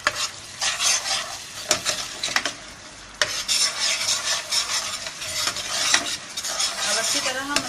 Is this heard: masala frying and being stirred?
yes